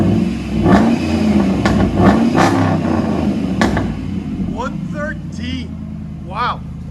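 A 2007 Dodge Ram with a 4.7L engine and true dual Flowmaster exhaust revs in several throaty bursts close by, with people talking and a few whistling tones near the end.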